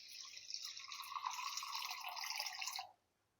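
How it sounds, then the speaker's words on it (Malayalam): Water pours steadily into a pan of chilli fish curry, a close, continuous gurgling stream lasting about three seconds before stopping abruptly. "അത്രയും വെള്ളം കൂടെ ഇട്ട് കൊടുക്കാം കേട്ടോ."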